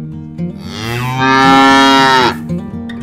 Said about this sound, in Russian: Корова.